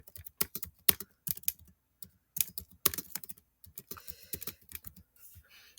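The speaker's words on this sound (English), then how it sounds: "I can type in whatever I want to say" Rapid clicking of computer keyboard keys in irregular bursts and short pauses, close and fairly quiet, with no talking.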